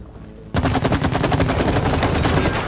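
Rapid gunfire in the It Takes Two video game bursts in abruptly after a quiet start, then rattles on as a loud, fast, continuous stream of shots.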